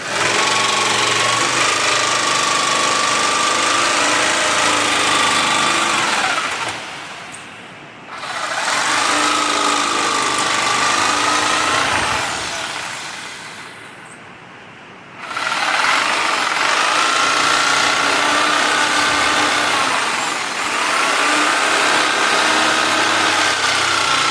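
A power saw cuts through a PVC window sill, its steady high-pitched whine and buzzing running loud and close in long passes, twice easing off briefly as the blade slows before cutting again.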